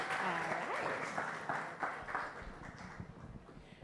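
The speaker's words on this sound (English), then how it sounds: "let's give our panelists one more round of applause, please" An audience at a youth forum on digital gender-based violence claps for the panelists, a moderate, fairly dense round of applause that slowly thins and tapers off, with a voice faintly audible underneath.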